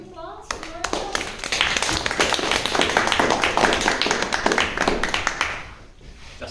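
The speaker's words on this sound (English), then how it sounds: "So please give a big applause for" An audience at a Toastmasters meeting breaks into applause, a dense burst of many hands clapping that swells quickly, holds steady for several seconds, then thins out near the end.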